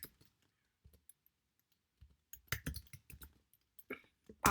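Someone types JavaScript code on a computer keyboard. Quiet scattered key clicks at first give way to a quick burst of denser tapping, with soft isolated presses in between.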